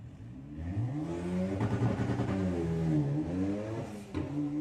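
A Volkswagen drag racing car on a bye run at Santa Pod, its engine revving and climbing in pitch through the gears, loud and fairly close, with a clattering edge.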